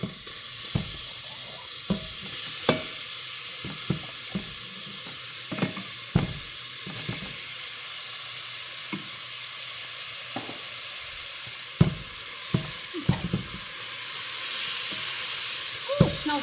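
Half an onion and a carrot frying in a pan, giving a steady loud sizzle and hiss with scattered clanks and scrapes of stirring throughout, no talking.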